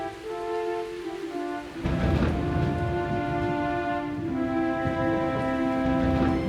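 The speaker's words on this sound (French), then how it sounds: "Malgré le bruit de l'orage qui emplissait le château" Rain falls steadily on a stormy night around a castle, with a dull roll of thunder swelling partway through, layered under a sustained musical score.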